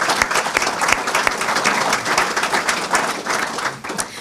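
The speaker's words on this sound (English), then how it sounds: "So if we could have a round of applause for our honor roll." A community gathering's audience applauds its honor roll of solid waste collection and recycling workers with steady, dense clapping throughout. The clapping is close and fairly loud, with a few sharper individual claps standing out.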